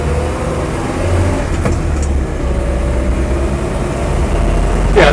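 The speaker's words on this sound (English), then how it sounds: "starts on the button, no misfiring, hesitancy, or overheating at all from the motor" A Land Rover 88-inch Series III truck cab engine idles steadily nearby, a low continuous rumble with a few light knocks and rattles over it and a brief rise in loudness near the end; no talking.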